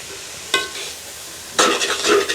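Leeks, cabbage and carrot get stirred in a pan, with two distinct bursts of scraping and sizzling separated by a quiet pause, close and fairly loud with no voices.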